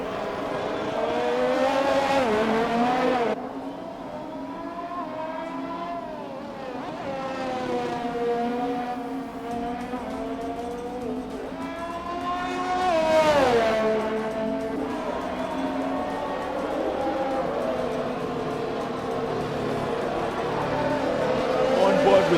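Formula 1 race cars screaming past in an e-sports racing game, high engine whine rising and falling through gear changes, with commentators talking over the roar.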